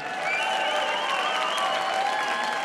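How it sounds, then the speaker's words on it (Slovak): An awards-show audience breaks into sustained applause, thick and even clapping from a large crowd that holds steady throughout, with faint cheering mixed in. "venujte ešte jeden potlesk"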